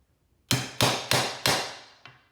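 Hammer giving a screw head several light taps over a drilled hole in scrap plywood, while prepping a vintage Skilsaw 825 for rebuild: four sharp, evenly spaced close knocks followed by a softer fifth tap.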